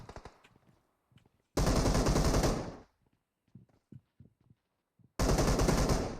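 Two long bursts of rapid automatic gunfire in a PUBG Mobile match in Atlantis mode, loud and close, separated by quieter stretches of scattered faint clicks and shots.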